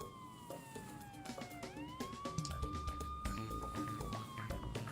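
A police siren in the Nancy Drew: Secrets Can Kill video game wails with a sliding, rising-and-falling pitch, fairly clear over a low rumbling background.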